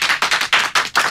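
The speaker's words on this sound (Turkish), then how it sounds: "Alkışlayın arkadaşlar." A small group applauds a game-show winner on a Turkish family sitcom: a handful of loud, close, separate claps in an uneven rhythm, about six bursts in just over a second.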